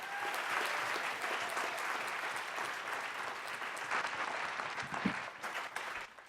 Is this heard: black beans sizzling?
no